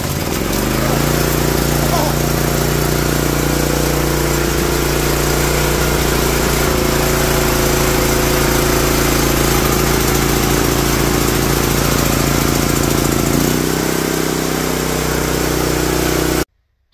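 Honda GX340 small engine running steadily after a choke start, the muffler likely fouled with oil and a mouse nest; a loud, close, continuous drone that holds throughout and cuts off abruptly at the end.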